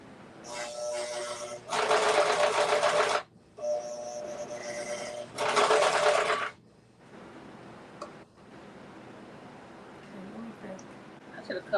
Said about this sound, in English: So I'm going to have to stitch really close to the top stitch because I only did 1/4 of an inch of a